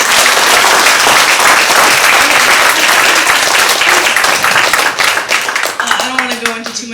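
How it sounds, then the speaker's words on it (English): Loud, dense applause from an audience at a 2023 dedication night fills the room, with cheers mixed in, thinning toward the end as a voice starts up. "just give him a really big round of applause"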